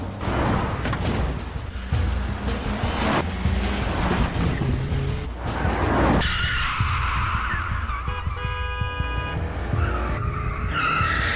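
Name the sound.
cars skidding during a movie car chase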